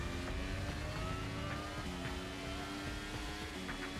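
BMW Formula 1 car in F1 23 racing through the final corners of a lap, its engine a steady high-pitched whine with shifting tones, continuous and fairly loud, no talking.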